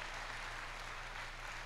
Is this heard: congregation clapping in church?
yes